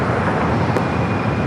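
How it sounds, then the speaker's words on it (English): Green Air Cargo Boeing 777 freighter at LAX, heard as a loud, steady broadband jet roar with no break for the whole moment. "All right, we do have Green Air Cargo 777 freighter up next"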